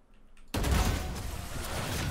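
Gunfire in a shooting video game: after a short quiet moment, a loud, dense burst of shots erupts and carries on as continuous, close rapid fire to the end.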